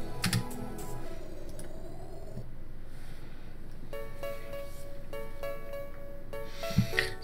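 Computer keyboard keys pressed during play of an Amiga game, a faint scattering of clicks over a steady background hum and game music tones.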